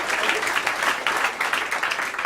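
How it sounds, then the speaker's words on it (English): Audience at a comedy magic show applauding, a dense steady clapping that fills the room with no pauses. "Joe, everybody give Joe Marie a big round of applause."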